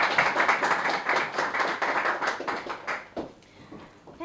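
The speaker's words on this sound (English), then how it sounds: "Please give her a round of applause." An audience at a Honey Bun School Days Programme event claps for a speaker, a lively burst of many hands close by that fades out after about three seconds.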